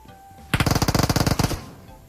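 A single rapid automatic burst fires in the video game PUBG Mobile, loud and close, about a second of evenly spaced shots before it stops abruptly.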